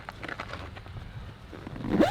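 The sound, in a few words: zipping up Jeep Wrangler soft top zipper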